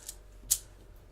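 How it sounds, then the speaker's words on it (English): A clicking sound effect for a shadow puppet story plays softly in a quiet room, two sharp, brief clicks about half a second apart, the second louder. "Clicking grew louder."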